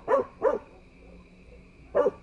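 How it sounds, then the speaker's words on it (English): A small dog barking, three short yapping barks, two in quick succession and one after a pause, close and clear with nothing else audible. "A lot of little orderly barks answered her."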